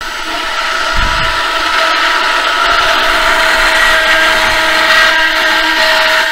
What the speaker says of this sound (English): We're going to keep blending.